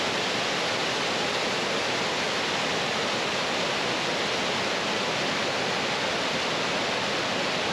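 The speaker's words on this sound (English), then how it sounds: "Starky Bak, one of the big waterfalls in Una National Park." Štrbački Buk, a large waterfall in Una National Park, roars as a loud, continuous, broadband rush of falling water with no pauses.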